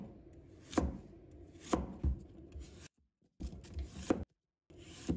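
A knife slices half a carrot on a cutting board with crisp, evenly spaced strokes, about six chops in bursts broken by two short silent pauses, close and alone.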